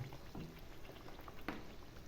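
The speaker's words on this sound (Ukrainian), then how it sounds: "Смажимо до того часу, поки візьметься кірочкою з двох" Pieces of beef kidney sizzling and spitting in a large frying pan, a faint steady crackle with a few sharper pops, no voices.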